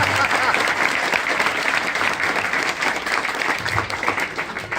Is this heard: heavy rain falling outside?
no